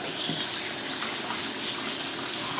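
Water gushes steadily from a kitchen tap while cooked pasta is rinsed, a loud, continuous hissing stream heard close up with no one speaking.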